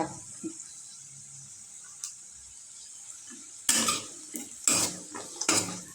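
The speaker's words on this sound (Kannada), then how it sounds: "ಹಾಕಿದ್ರೂ ಒಣ ಕೊಬ್ಬರಿ ಕೆಂಪಗಾಗೋವರೆಗೂ ಹುರಿಬೇಕು ಚೆನ್ನಾಗಿ." Chopped dry coconut is roasted in a pan for a village-style mutton curry. After a mostly quiet start, a utensil scrapes and clatters against the pan in several close, sharp bursts, with no talking.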